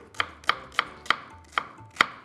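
A kitchen knife chops onions on a board in six crisp, close, evenly spaced strikes about every third of a second, with no talking.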